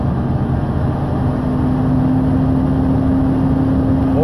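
A car engine held at a steady rev near 1500 RPM while practicing double clutching, a constant close idle-like hum with a rising tone near the end, no voices.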